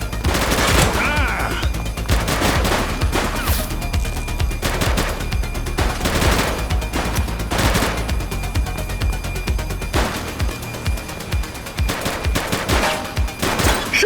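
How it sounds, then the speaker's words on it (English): Gunfire in the video game The Precinct: dense bursts of rapid shots and automatic fire with booming impacts, loud and continuous over a game soundtrack, with a voice calling out briefly. "Shots fired!"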